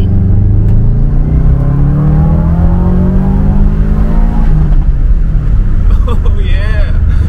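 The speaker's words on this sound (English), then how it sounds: "Second gear pull." A lifted Subaru STI accelerating hard in second gear, its engine note rising steadily in a loud, close pull before easing off, with a voice speaking over it.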